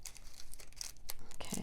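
Plastic diamond painting bags are snipped and crinkled at close range in a quick series of sharp, crackly cuts and rustles, with no voice over them.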